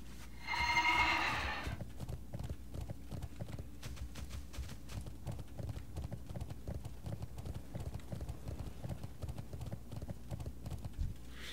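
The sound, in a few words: riding horse hooves in World of Warcraft video game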